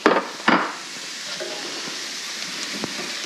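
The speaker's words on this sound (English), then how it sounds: "Our onions, celery, and carrots have been sauteing for 6 or 7 minutes." Onions, celery and carrots sauteing in a pan, with chestnut meats being tipped in: two sharp clattering knocks at the start, then a steady soft sizzle with faint scattered clicks of utensils.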